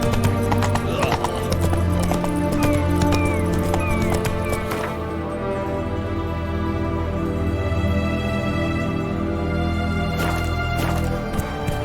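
Roach, a horse in The Witcher 3: Wild Hunt, gallops with steady rhythmic hoofbeats over a continuous game soundscape, with a short whinny near the start; no one speaks.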